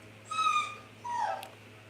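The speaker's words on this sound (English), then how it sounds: "Y'all gotta excuse my dog." A dog whimpers and yips in two drawn-out, high whining cries, moderately close, with a steady low hum beneath and no talking.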